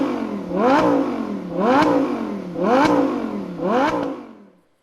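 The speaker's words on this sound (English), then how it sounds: "now what you have here is a sound of our V10 engine" A Lamborghini Huracan LP 610-4 V10 engine revs hard four times in a steady rhythm, each burst rising sharply in pitch and then falling away, loud and close.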